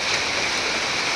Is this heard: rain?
yes